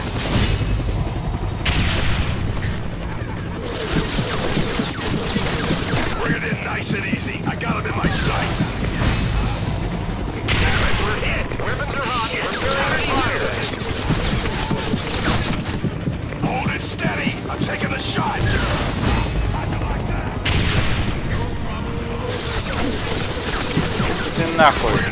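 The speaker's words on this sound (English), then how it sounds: "Weapons are hot, preparing to fire. Hold it steady. I'm taking the shot." Repeated bursts of weapon gunfire in X-Men Origins: Wolverine, sharp cracks and volleys recurring in clusters over a constant mechanical rumble, loud and close throughout.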